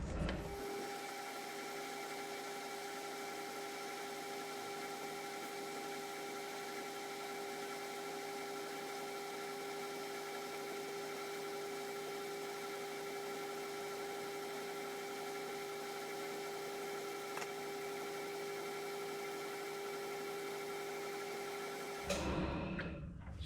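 A metal lathe cuts a part for a John Deere differential, holding a steady tonal whine that runs unbroken for over twenty seconds and then stops, with a short clatter at the end.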